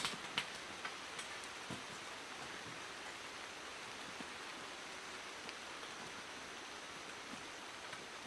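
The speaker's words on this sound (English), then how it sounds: "Here comes the rain." Rain falls steadily outdoors during a treestand hunt setup, a continuous even wash of patter at moderate distance with no voices.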